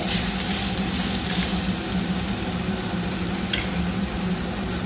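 Tomato chutney frying in oil in a pan gives a steady, dense sizzle that stays even and close throughout, with no voices.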